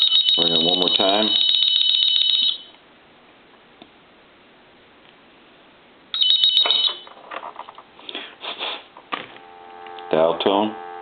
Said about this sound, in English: Ring it one more time.